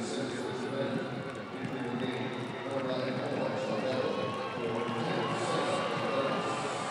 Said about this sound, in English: The applause of the crowd for both Contreras and the other native El Pasoan